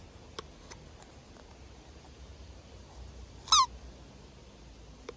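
A vintage Halloween pop-up cat toy gives one short, high warbling squeak, loud against a quiet room, preceded by a few faint clicks and handling noises.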